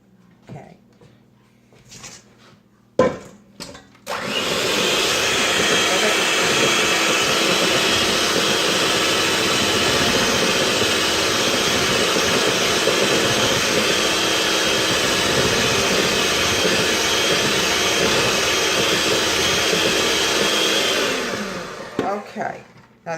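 An electric mixer whirs loudly and steadily while beating unsalted butter, egg yolks and vanilla into chocolate waffle batter, running for about sixteen seconds after a few clicks and handling noises, then winding down.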